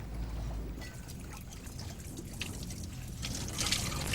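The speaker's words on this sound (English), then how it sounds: "I'm going to take this out and I'm going to rinse it under cold water." Cold tap water runs steadily over egg noodles being rinsed, a continuous close splashing trickle with no talk.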